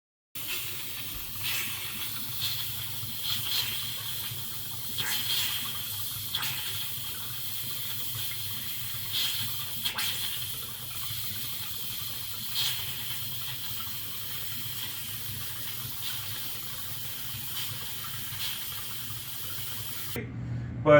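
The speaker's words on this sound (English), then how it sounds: "Turn on the hot water faucet almost everywhere." Water runs steadily from a hot water faucet, a soft continuous hiss and splash at moderate distance, unchanging for the whole stretch.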